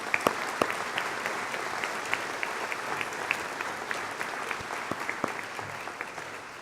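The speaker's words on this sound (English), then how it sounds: "let's give you one more round of applause and congratulations" A crowd at a graduation ceremony gives graduates a long round of applause, steady clapping with a few louder individual claps standing out, fading slightly near the close.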